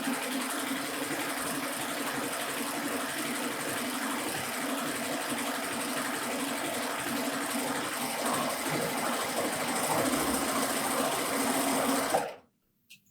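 A Baby Lock Euphoria cover stitch machine sews along a turned-up fabric hem, running at a close, steady, even whir for about twelve seconds before stopping abruptly.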